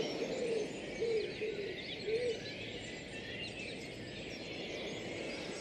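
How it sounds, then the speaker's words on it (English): Dozens of birds singing together in bare-branched trees in a city park in spring, a dense continuous chorus with overlapping calls where no single bird stands out, plus a few lower cooing notes. "up there, there's dozens of birds singing their hearts out."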